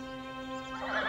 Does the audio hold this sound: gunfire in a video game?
no